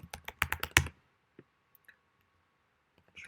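Quick bursts of keystrokes on a computer keyboard, a rapid cluster of close, crisp taps followed by a few isolated clicks in near silence.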